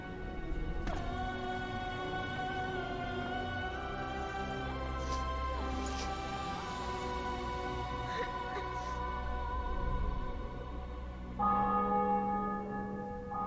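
Church bells peal in the video game The Witcher 2, struck repeatedly in a loud, reverberant wash over a sustained musical drone, continuing steadily with no talk.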